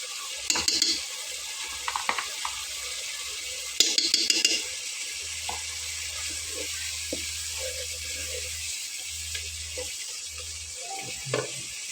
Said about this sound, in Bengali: মশলাটা খুব ভালোভাবে কষানো হয়েছে। দেখুন তেলটাকে ছেড়ে দিয়েছে।